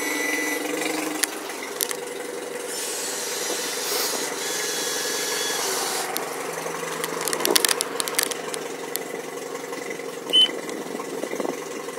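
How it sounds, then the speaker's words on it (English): Power tilt and trim motor on a 2013 Sun Tracker Party Barge 250 XP3 pontoon boat, a whirring mechanical buzz running steadily with scraping, rubbing textures and a few sharper clicks, close by. "You have your power tilt and trim up here still on your switch. You can hear that, I hope."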